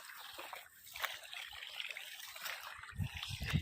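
Water trickles and splashes softly in a field irrigation canal where people are bathing, a faint, close, irregular dribble with occasional small sloshes.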